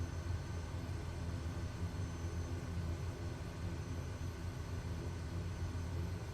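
Kodiak 100 aircraft engine in Microsoft Flight Simulator 2024, a steady, loud, unbroken propeller-engine drone that holds at an even level throughout with no voices over it.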